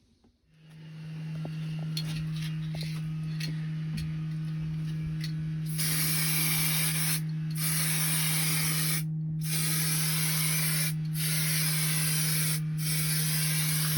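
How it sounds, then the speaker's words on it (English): Sandpaper rubbing by hand over a cracked shower tray repair, flattening the treated patch before priming: a steady close abrasive hiss running throughout, growing louder and more continuous partway through, with a constant low hum beneath and no talk. "the advantage of flattening it off with the sandpaper"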